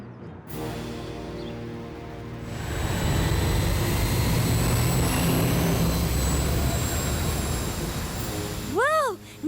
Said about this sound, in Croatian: Wow, nevidljivi avion.